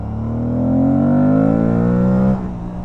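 Aprilia Tuareg 660 motorcycle engine revving up loud and close, its rising pitch climbing steadily for about two seconds before easing off abruptly near the end.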